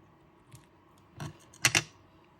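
Scissors snip through glue-coated paper during a paper craft project, giving a few brief, crisp cuts, the loudest pair close together near the end, with quiet pauses between them.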